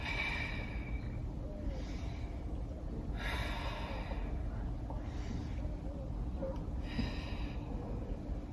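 Deep breathing during a morning stretching and hip mobility routine: slow, noisy inhales and exhales repeat in a regular rhythm, close and fairly loud, with no talking over them.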